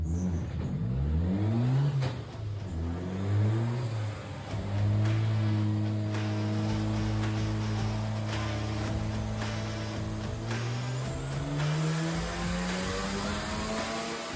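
A Mazda RX7 rotary engine on a dyno is revved hard, its pitch sweeping up and down repeatedly, then held at a steady high drone before climbing again, loud and close throughout with no talking.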